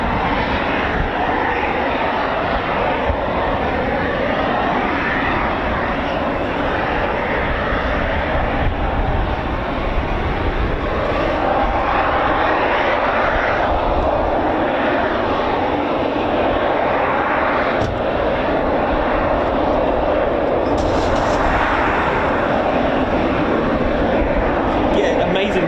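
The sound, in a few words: RAF Typhoon FGR4 jet engines started up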